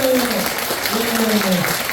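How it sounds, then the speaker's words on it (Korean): Clapping at a church service after a youth saxophone and instrumental worship performance forms a continuous, fairly loud rustle of applause beneath sustained musical tones. "뜨거운 박수 부탁드리겠습니다"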